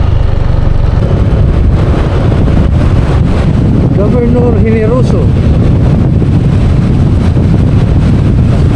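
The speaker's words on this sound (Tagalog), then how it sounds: "Hangin." Strong wind buffets the microphone in a loud, constant roar, with a voice speaking briefly partway through.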